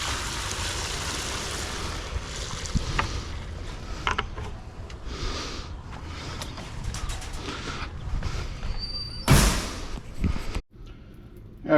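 Water runs through household plumbing from a shower and bathroom sink, a steady rushing hiss broken by clunks, creaks and rattles of fixtures, and then cuts off near the end.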